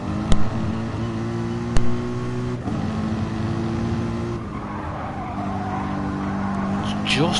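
GT3 race cars lapping Catalunya in a racing video game, a Lexus and a Mercedes among them, their engines droning steadily with shifting pitch and a few sharp knocks, under continuous commentator talk.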